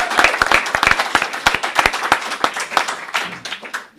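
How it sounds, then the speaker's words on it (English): Close, lively clapping from an audience welcoming a speaker at a lecture, loud crisp claps in a busy pattern that gradually thins and softens toward the end. "please give a great big round of applause for Bill."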